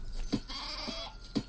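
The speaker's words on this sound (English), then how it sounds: "Yeah, I get it. Sheep." Sheep in the video game Craft the World bleat twice, short nasal calls about a second apart over a faint steady background hum.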